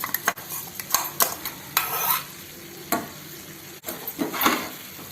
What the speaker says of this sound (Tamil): நல்லா மிக்ஸ் பண்ணி விடணும்.